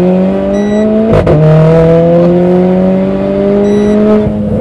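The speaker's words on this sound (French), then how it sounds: "Elle fait sonner la voiture, elle sonne de partout" A Renault Clio 4 RS Trophy engine revs loudly and close, its pitch climbing steadily, with a brief break mid-way before rising again.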